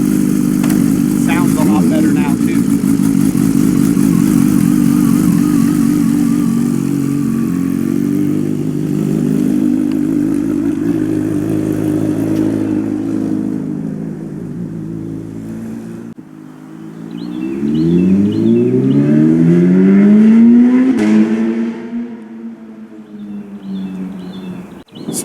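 A Kawasaki Ninja H2 SX motorcycle engine revs, loud and close, in repeated rising and falling sweeps, with a short quiet gap in the middle and stronger revs after it.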